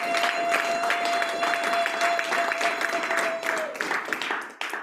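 A church congregation applauds in a sustained wash of clapping, with a steady held tone from the sanctuary sound system running underneath before fading out at the end.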